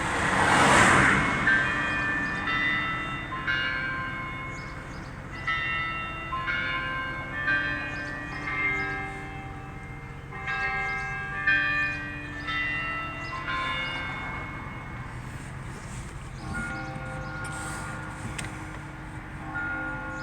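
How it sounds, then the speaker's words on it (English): Town church bell chimes play a slow melodic tune of distinct struck notes with long ringing decays, heard from a distance over faint traffic and outdoor ambience, with no talking. "There's our chimes."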